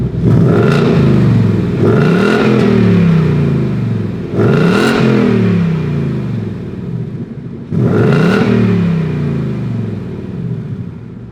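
A 2020 Ford Mustang GT fitted with a Roush active exhaust revs hard in several loud, close bursts, each throaty rise settling back to a deep rumbling idle between blips.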